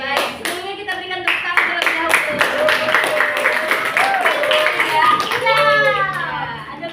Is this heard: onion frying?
no